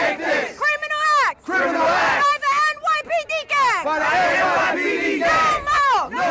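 Protesters at a rally against police violence toward Black and Latino youths chant in loud, rhythmic bursts, voices surging together and breaking off between shouted phrases, with crowd noise filling the gaps.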